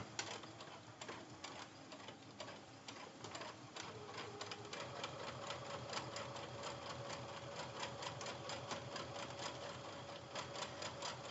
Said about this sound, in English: Don't forget to put your presser foot back down and continue sewing.